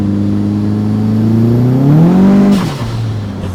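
A turbocharged Nissan 240SX pulls hard under acceleration, a loud, close engine drone rising steadily in pitch, then a sudden drop as the driver shifts and the engine note falls back.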